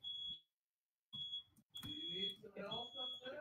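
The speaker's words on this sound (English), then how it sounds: "Whose fire alarm is going off?" A fire alarm beeps with a high, steady electronic tone in repeated bursts, sounding near and loud, while people talk over it.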